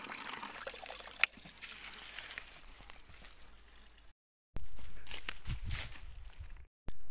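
Clean drinking water is poured onto the roots of a plant outdoors in a village, a soft trickling and splashing pour broken by brief silent gaps and a few scuffs.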